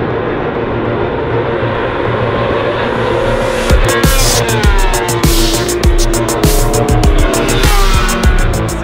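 Racing motorcycles scream past one after another during the warm-up session of a 24-hour motorcycle endurance race, loud and close, with repeated sharp Doppler sweeps over a steady roaring background from about four seconds on.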